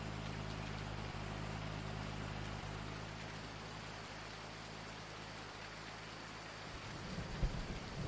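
Steady, dense rain from the Farming Simulator 19 game, falling as a constant loud hiss with a low rumble underneath, continuous for several seconds with no talking.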